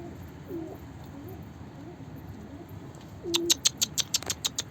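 A pigeon coos a few soft, low calls to attract a mate, then a burst of sharp, rapid chirps or clicks follows near the end, close by and fairly quiet.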